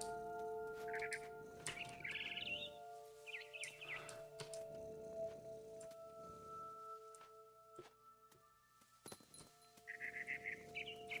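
A frightened barn swallow in What Remains of Edith Finch gives scattered high chirps in bursts, separated by quieter stretches of game ambience with low hum and occasional soft thumps.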